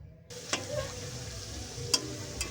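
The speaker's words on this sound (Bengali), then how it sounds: "আলুটাকেও ভালো করে ভেজে নিলাম।" Potatoes fry in a pan for a home-style meat curry. A soft steady sizzle runs under a few sharp scrapes and knocks as they are stirred.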